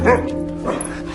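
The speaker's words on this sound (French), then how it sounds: "Oui, tu es un bon chien." A dog whimpers in a short, high whine right at the start, then softer whimpering sounds fade under a low indoor hum, close by, within about a second.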